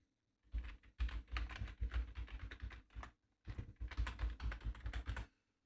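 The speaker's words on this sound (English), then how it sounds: "So the first thing you need to do of course is type your email here." Email address being typed on a computer keyboard, two bursts of rapid close key clicks separated by a brief pause, no talking.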